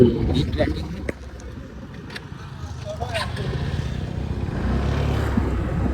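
A small Honda Activa scooter engine idles and putters in a low rumble while people talk nearby.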